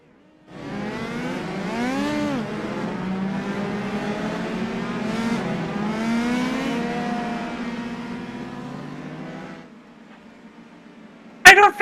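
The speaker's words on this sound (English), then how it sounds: "so the pace car will pull away here" A pace car in the iRacing sim pulls away on the grid at Rudskogen, its engine rising and shifting through several revving pitches for about nine seconds before cutting out, followed by a brief sharp noise at the end.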